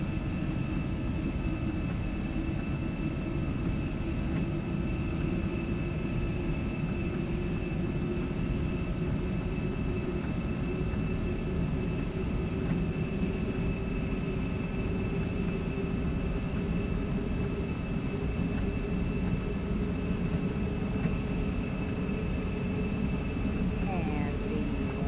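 An Embraer E175 jet gathers speed on its takeoff roll, a steady loud engine roar and rumble with a high whine, heard continuously from inside the aircraft while a pilot speaks over it.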